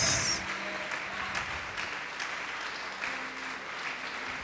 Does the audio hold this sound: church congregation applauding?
yes